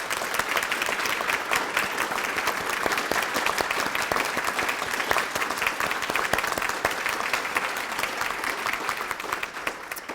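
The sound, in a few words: audience applause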